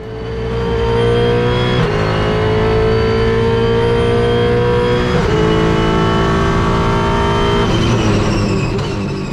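A V8 Supercar racing engine roars up through the gears on track, loud and close, with three rising revving climbs each broken by a sharp upshift, heard alone.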